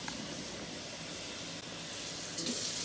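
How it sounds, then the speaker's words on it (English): Water runs steadily with a soft hissing rush, like a tap filling a pan, continuous and fairly quiet with no talking. "We're going to put just enough cold water in."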